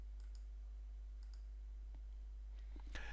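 Mouse clicks on a bold formatting icon in a Joomla 3 article text editor, a few soft scattered clicks with a sharper cluster near the end over faint steady background hum.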